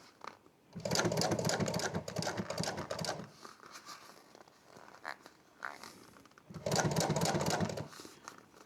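A sewing machine runs in two long bursts of top stitching through fabric, loud and steady, separated by a few seconds of quieter handling noises.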